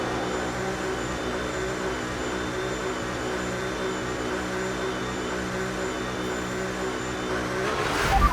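A racing car engine in an F1 video game race with a Porsche team, droning steadily at high revs with a constant whine, rising slightly at the end, no voices.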